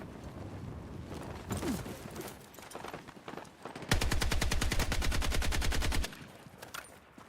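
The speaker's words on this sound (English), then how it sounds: "Enemy machine gun!" Enemy machine gun fire in Battlefield 6 cuts through the game's ambient wind and distant shots as a loud, rapid, evenly spaced two-second burst of rounds.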